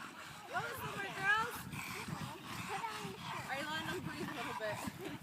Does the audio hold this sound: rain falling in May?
no